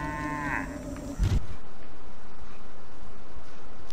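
A synthetic cow moo with a rising, game-like tone from the video game Destroy All Humans! on PS2, cut off by a brief thump, followed by a steady low hum.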